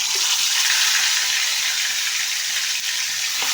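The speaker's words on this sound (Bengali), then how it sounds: "তেল গরম হয়ে গেছে, এখন আমি চিকেনগুলো দিয়ে দিব।" Chicken pieces frying in hot oil on a home kitchen stove, a steady, loud, continuous sizzling hiss filling the whole stretch with no talk over it.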